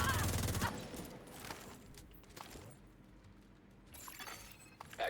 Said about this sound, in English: the EMP is just so loud